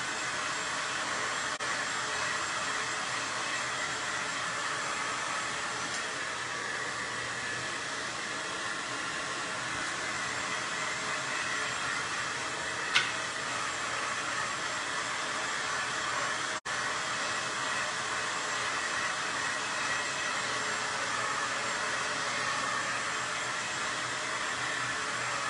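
A hair dryer on its low setting blows steadily over paint on a picture frame, giving a constant, even airy whoosh with no breaks or talk.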